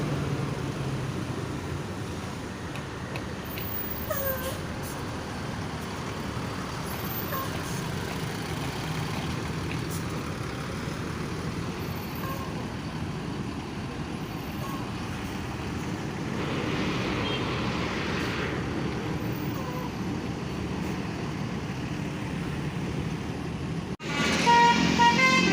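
Buses rolling into Poris bus terminal, a continuous rumble of idling and moving engines with traffic noise, short horn toots and a louder burst near the end.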